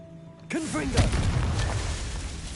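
A Confringo fire spell bursts in the Hogwarts Legacy game with a loud, sudden boom that rolls into a sustained rumbling blast, preceded by a short whooshing cast.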